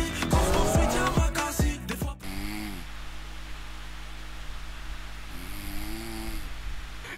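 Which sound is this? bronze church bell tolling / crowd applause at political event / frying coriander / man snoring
man snoring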